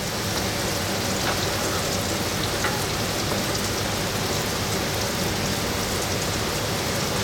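Pineapple caramelizing in butter in a pan for a dessert, giving a steady, dense crackling sizzle that runs evenly throughout with no voices.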